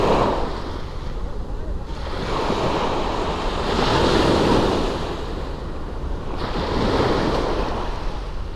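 Sea waves roll in and break on the shore in slow, swelling surges, loud and close, with wind buffeting the microphone between crests.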